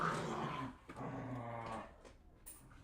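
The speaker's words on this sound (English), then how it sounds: "Dogs, chill." Several dogs growling and grumbling together close by, a continuous rough rumble with a few sharper yips, heard over a faint outdoor background.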